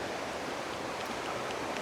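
Steady broadband rush of creek water running after high water, a soft continuous flow close by with no voices over it.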